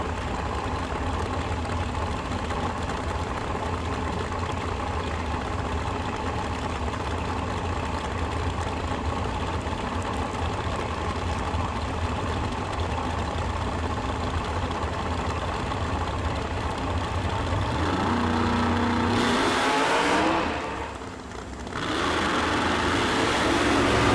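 A drag racing car at a drag strip drones with a steady engine rumble throughout, shifting pitch and briefly dipping near the end before the roar resumes; no talk.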